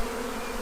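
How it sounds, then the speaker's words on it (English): Honey bees buzz around an open hive, a dense, continuous hum close to the listener, with no voices. "我给大家看我们现在周围有多少只蜜蜂。"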